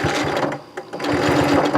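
A domestic sewing machine stitches a tote bag body to its band with a long stitch, a loud close rapid whir that dips briefly and then resumes at a steady pace.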